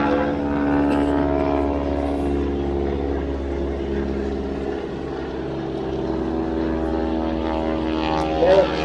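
A propeller aircraft flies past at the Blackpool airshow, a loud steady engine drone with a rich buzzing tone that holds throughout, with a faint announcer's voice in the background.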